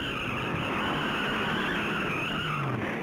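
Stock cars on an oval track skid after hooking bumpers during the 1964 Darlington Southern 500, a steady roaring tire-and-engine wash lasting about three seconds, with no talk over it.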